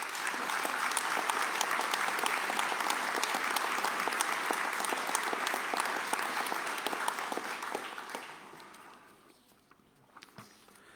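Applause from the audience at a mayor's New Year wishes ceremony in Dinard, recognising local associations. Dense sustained clapping from a large hall crowd holds for about eight seconds, then thins to scattered claps and fades out.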